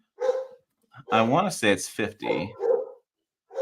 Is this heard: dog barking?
yes